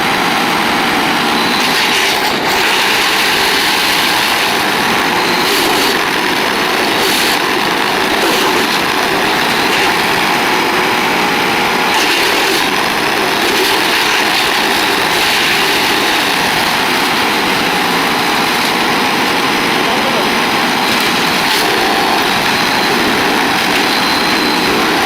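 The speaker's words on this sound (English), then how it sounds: "This is the Vermeer BC 700XL, a compact and reliable wood chipper designed for tree care professionals." A Vermeer BC 700XL compact wood chipper engine runs steadily and loudly throughout, a constant mechanical drone with no pauses.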